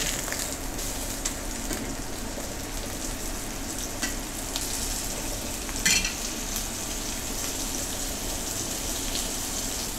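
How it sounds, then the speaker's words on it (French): A steady, crackling sizzle of a ground beef patty frying in a hot pan runs throughout, with a brief louder spatter partway through. "Je retourne le steak."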